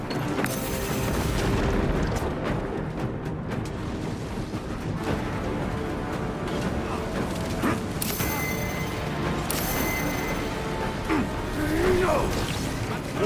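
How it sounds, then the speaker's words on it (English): A melter bomb goes off in the video game Warhammer 40K Space Marine 2, a heavy booming blast amid ongoing gunfire, mechanical clatter and battle noise, with a few sharp cracks later on. "Throwing melter bomb."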